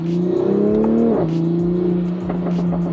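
A tuned, straight-piped Toyota Supra accelerates hard, its loud exhaust note rising steadily in pitch, briefly dipping at a gear change, then pulling on with a rasping drone close by.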